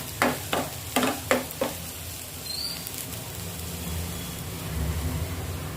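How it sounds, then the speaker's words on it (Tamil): Vegetables tossed and stir-fried in oil in a pan for veg fried rice: a handful of sharp clanks of the spatula early on, then a low continuous sizzle. "நம்ம ஊற்றிருக்க ஆயிலில் லைட்டாக டாஸ் பண்ணி எடுத்தால் போதும்."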